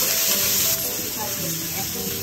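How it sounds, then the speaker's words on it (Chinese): Garlic stir-fries in hot oil with a close, hissing sizzle that eases slightly partway through the brief moment, while a faint voice murmurs underneath. "现在放一点油，放一点大蒜，炒一下"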